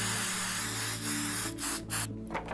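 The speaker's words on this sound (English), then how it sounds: "hit that with a little bit of spray adhesive" A spray can of spray adhesive hisses in several short bursts onto card, loud and close, with brief pauses between sprays.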